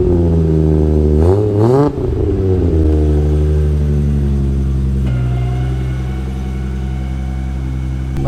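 Car engine running loud and close as the car is backed out, a deep steady rumble with a brief rev near the start before settling into an even idle.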